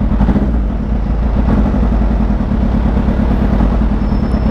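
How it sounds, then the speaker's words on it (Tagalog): Supercharged Kawasaki H2 motorcycle engine running steadily with a low, pulsing mechanical throb and clatter, loud and close throughout, with no clear cutout. "Pagka tipong bumitaw ka na sa gas, namamatay siya."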